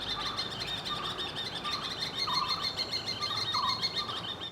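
Woodpeckers in Kerala calling, a steady run of bright, repeated chirping notes carrying loudly over a continuous background of other birdsong, with no voices present.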